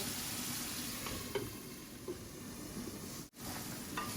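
Spices and orange peel frying in a pan, with a steady, close sizzle and occasional scraping stirs running throughout. A short break comes near the end, and no one speaks.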